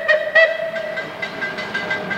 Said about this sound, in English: We're at the Cog Railway, and we'll be boarding that train in a minute or so